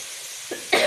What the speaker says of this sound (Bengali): পেঁয়াজি কালি ওর মধ্যে লঙ্কা দেওয়া হয়েছে তো তাই কাশি লাগছে